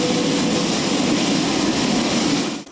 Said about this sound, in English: The roar of four engines firing up one by one, a quick taxi, and then takeoff